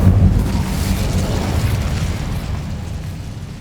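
A deep, rumbling fiery blast from the Incendio fire spell in the video game Hogwarts Legacy, loud at the start and slowly fading over a few seconds.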